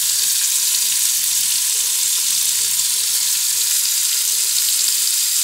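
Onions frying in a pan give a steady, dense sizzle that holds even and loud from start to finish, with no voices over it.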